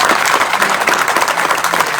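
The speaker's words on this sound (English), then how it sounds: "can we please give our panel members another round of applause?" Loud, dense audience applause for the members of a veteran service officer panel at a breakout session, steady crowd clapping filling the room for a couple of seconds.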